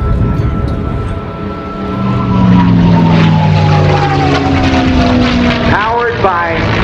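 A P-51D Mustang with a Rolls-Royce Merlin V12 liquid-cooled engine passes at an air show, its loud droning roar swelling and shifting pitch as it flies by, with a voice talking over it.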